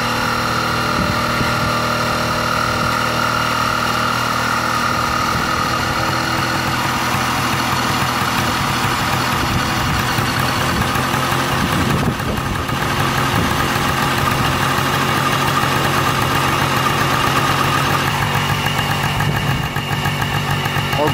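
A Honda PA50 moped's small two-stroke engine runs close by after a carburetor fix, a continuous buzzing idle with steady hum that briefly dips near the middle, then picks back up and keeps running.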